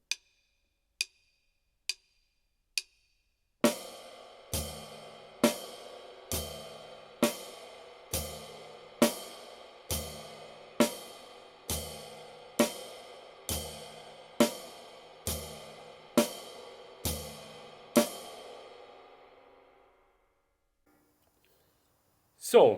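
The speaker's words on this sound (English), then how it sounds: "you start with your left hand on the snare drum and then you're playing with the right foot on the bass drum" Drum exercise in a jazz comping style, played with the left hand on snare drum and the right foot on bass drum: a few sparse opening taps, then a steady run of about fifteen evenly spaced, ringing strokes that stops abruptly, close and alone.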